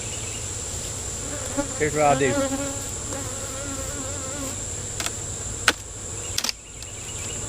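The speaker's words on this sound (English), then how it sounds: "So this one, a lot of the bees came out." A steady swarm of honey bees buzzes continuously at close range around a hive with honey supers, with brief clanks and knocks of equipment and a short spoken phrase partway through.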